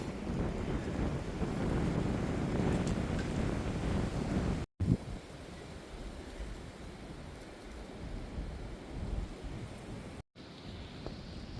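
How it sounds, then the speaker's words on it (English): Wind rushes steadily across the microphone on Wesser Bald on the Appalachian Trail in a broad, continuous roar, with two brief dropouts and no voices. "It's a bit windy."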